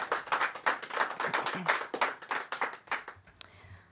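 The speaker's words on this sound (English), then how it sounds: "let's give the candidates a big round of applause." A small audience at a Denver state senate district 32 candidate forum claps for the candidates, a close, dense patter of hands that thins and fades out near the end.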